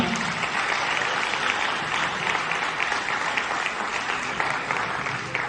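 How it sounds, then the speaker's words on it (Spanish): An audience at a law seminar gives a panelist a strong round of applause, a dense, steady wash of clapping that holds at even loudness throughout with no speech over it. "Un fuerte aplauso para el panelista."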